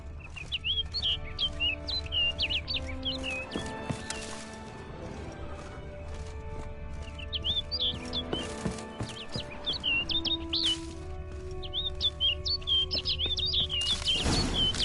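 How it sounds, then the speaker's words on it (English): A bird in The Witcher 3: Wild Hunt, Blood and Wine, gives repeated high chirps and tweets in clusters throughout, over a steady ambient game background with a few sharp crashes. "Looks like the bird's leading me somewhere."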